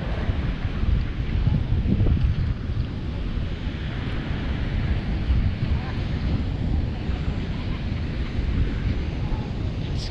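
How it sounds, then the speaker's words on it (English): Strong wind blowing on a South African beach, a continuous loud rumbling roar buffeting the microphone, with surf washing faintly underneath throughout. "It's really windy"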